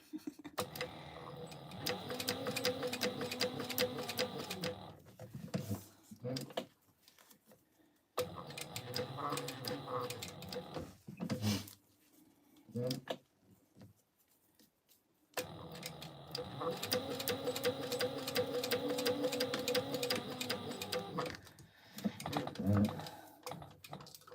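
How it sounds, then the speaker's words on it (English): Bursts of rapid mechanical stitching from a sewing machine sewing a double seam on a clear TPU vinyl backpack, running in long runs separated by pauses, with a person talking quietly between runs. "We'll stitch it again here. We'll just make a double stitch down this."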